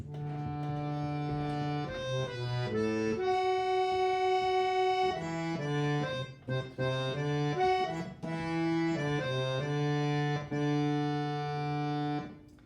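A reedy harmonium plays a simple, steady bhajan melody without ornaments, with a held drone underneath, clear and close, notes changing at an even pace with no voices.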